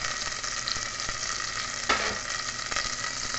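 Butter and oil sizzle steadily in a small pan as garlic goes in, a close, continuous frying hiss with a brief sharper crackle partway through.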